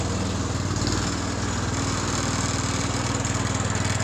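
Small 110 garden tractor engine running steadily in third gear, its variator having slipped, giving a close, even, rapidly pulsing mower-like drone with no talk.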